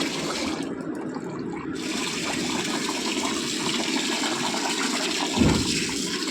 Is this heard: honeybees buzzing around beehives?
no